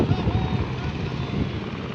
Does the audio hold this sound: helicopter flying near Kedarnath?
yes